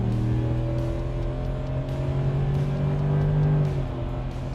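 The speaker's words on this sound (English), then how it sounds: "we can just punch it around and have a little bit of passing power here" A 2018 Ford F150 with a 5.0L V8, Phase 1 power package tune and S&B cold air intake, pulls hard with a loud, steady rising engine drone heard from inside the cab, easing off near the end.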